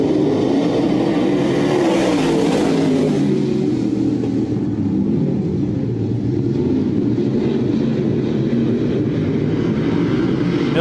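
Race cars roar through a heat race on a short track, a loud sustained engine rumble with a car swelling past nearby and fading, then a steady pack drone, no talk.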